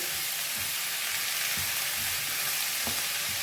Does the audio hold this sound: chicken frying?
yes